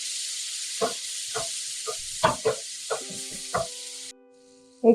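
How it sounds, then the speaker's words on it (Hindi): Onions and tomatoes sautéing in hot oil give a steady close sizzle for about four seconds, broken by several short clattering stirs, then the sizzle cuts off abruptly before a final knock. "एक से 2 मिनट के लिए मैंने प्याजों को और टमाटरों को फ्राई किया है इसमें"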